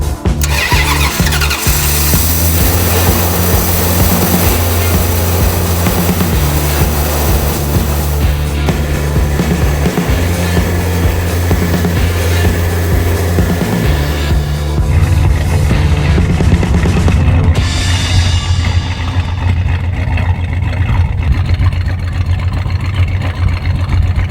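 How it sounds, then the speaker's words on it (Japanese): A tuned 1966 Dodge Coronet V8 with a radical camshaft and Edelbrock carburetor cranks and fires, then settles into a loud, lumpy rough idle with an uneven loping beat that continues steadily on its own. "Engine start."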